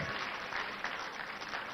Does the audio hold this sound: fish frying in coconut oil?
no